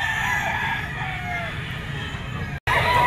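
A blue-legged Kanawayon stag rooster crows in a backyard breeding yard, one drawn-out call at moderate distance over steady outdoor background noise.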